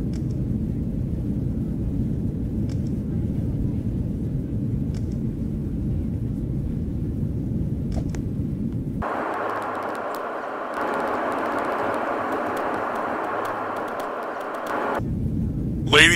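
An airliner cruising in flight inside the video game Cabin Crew Simulator gives a steady low cabin rumble, joined midway by a brighter, hissing engine tone for several seconds before the deep drone returns.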